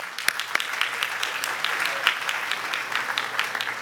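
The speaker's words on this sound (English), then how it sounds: "Give Consul General and all the hard workers in the Consul General office a big round of applause" Audience giving a round of applause for the Consul General and office staff at a community gathering in Richmond Hill, sustained crowd clapping with scattered sharper claps, steady and fairly loud for the whole stretch.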